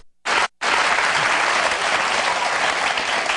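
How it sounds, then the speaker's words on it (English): Studio audience applause for a talk show guest: a short burst, a brief gap, then steady loud clapping that continues throughout. "Let's hear it for Sophia Bush"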